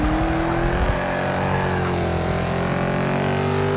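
A Mercedes-AMG GT S race car engine in Forza Motorsport 6 at Brands Hatch holds a loud, steady drone in third gear, the pitch sliding slightly as the car climbs through the rev range.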